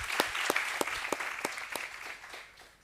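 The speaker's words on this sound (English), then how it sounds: "Let's give him another round of applause." Audience applause for a speaker at a South African book launch, showing sharp distinct claps at a fairly regular beat over a soft wash of crowd clapping, trailing off toward the end.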